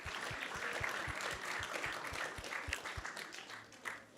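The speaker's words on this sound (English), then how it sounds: "So let's give them a big round of applause." An audience at a Krishna Katha gathering claps in a moderate, even wash of applause, with a regular low thumping beat beneath it that stops near the end.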